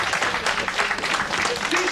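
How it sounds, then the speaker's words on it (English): Crowd at a StarCraft 2 tournament applauds and cheers in a continuous wash of clapping, with a commentator's voice running over it. "Some good support here for ForGG from our crowd"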